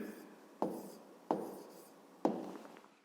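A pen writes numbers on paper while working a long division sum, making three distinct, soft scratchy strokes spaced about a second apart in a quiet room.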